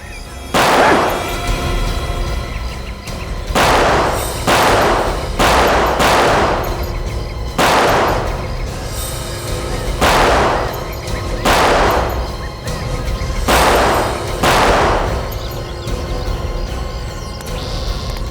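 Gunfire rings out in a TV crime drama shootout from the CID series, sharp repeated shots in irregular bursts of two or three, loud and close over a steady background rumble with no talk between them.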